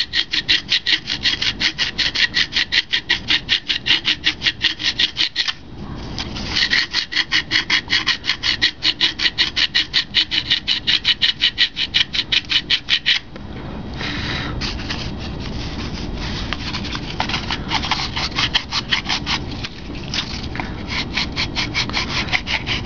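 An all-balsa glider's wing is sanded with 80 grit sandpaper, rapid rhythmic back-and-forth rasping strokes, close and loud, pausing briefly twice before continuing in a softer, smoother run.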